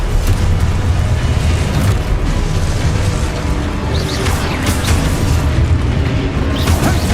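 Continuous booming spell blasts from the Confringo fire charm in the Hogwarts Legacy video game, loud and dense low-end explosions layered with bursts and pops throughout, with no talking.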